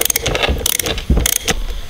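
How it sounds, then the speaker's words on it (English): A ratchet with a 24mm socket works loose the oil filter housing on a BMW E60 M5 V10, giving quick close clicking bursts and metallic knocks in short uneven strokes. "this is the 24mm socket you'll need to remove the oil filter housing"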